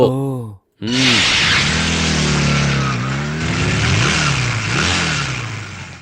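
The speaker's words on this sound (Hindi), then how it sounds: "अरे ये क्या, मोटरसाइकिल रेस क्या?" A motorcycle engine revs loudly and repeatedly, the pitch rising and falling in surges, close by and dominating the scene.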